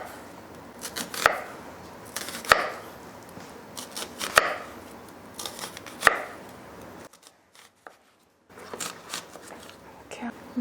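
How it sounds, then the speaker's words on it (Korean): A knife chops an onion on a cutting board, sharp thuds spaced roughly every second or two over softer scraping and rustling, close by, with a short silent gap before quieter handling noises resume. "양파 써는 모양을 좀 예쁘게 썰고 싶다 그러면 양파 원형대로 이렇게 칼집을 돌려서"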